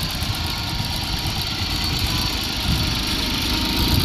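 A 1988 John Deere 322 garden tractor's small engine idles steadily and loudly up close, its low, even chugging rumble holding for the whole stretch with no talking.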